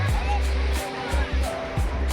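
Sea waves at Dwarka beach wash in with steady low rushing surges, a few swells building and breaking close by, with low ambient noise throughout.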